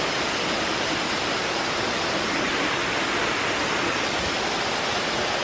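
Valhalla Waterfall near Minca, Colombia, rushes in a steady, dense roar, a continuous broadband wash of falling water heard close with no other sounds.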